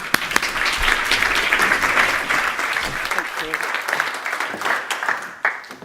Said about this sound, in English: could we just have a little round of applause for Jo, please?